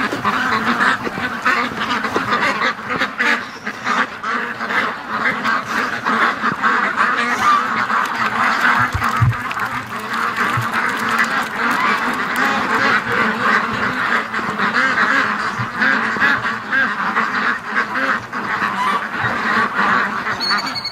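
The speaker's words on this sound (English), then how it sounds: "Oh, there's some duckies." A flock of ducks quacks steadily around an outdoor pen on a cold fall day, a continuous, fairly close chorus of overlapping calls that never lets up.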